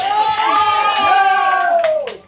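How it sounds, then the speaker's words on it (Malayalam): Audience at a Sangeeth night celebration bursts into loud, sustained clapping, cheering and whooping from a crowd for about two seconds before fading at the end. "കൈയടി കൊടുത്തേ പറ്റൂ"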